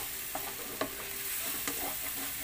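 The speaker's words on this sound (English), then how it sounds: "And let's just saute this. Mix all together the masala." Masala with salt sautéed and stirred in a pan for aloo gobi, a soft, quiet sizzle broken by a few light scraping clicks of the spoon, with no voices.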